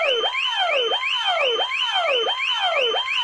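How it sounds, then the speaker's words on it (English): An alarm going off, a loud wailing tone that sweeps down and back up in rapid repeating cycles, about five in a few seconds, with a steady high beep layered over it. "It's the alarm."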